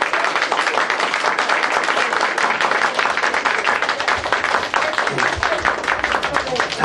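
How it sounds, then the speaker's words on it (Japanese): A live audience claps in answer to a judging call for the first performer in a beatbox battle round, steady dense applause filling the whole stretch without a break. "拍手でお答えください。"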